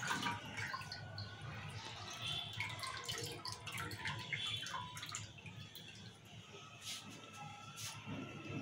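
Water drains off soaked chana dal and moong dal in a kitchen, heard as a faint, thin trickle with scattered light drips.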